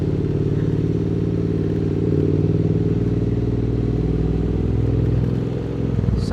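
A Triumph Street Twin motorcycle being ridden, its engine droning steadily and loudly close by with road and wind rumble, the pitch dipping briefly near the end.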